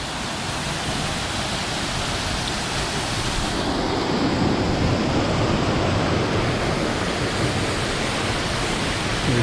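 A waterfall drops steeply beside a log-laid trail crossing in the Ice Lake Basin backcountry, giving a steady, close, broadband roar of rushing water that carries on unbroken and grows slightly fuller midway.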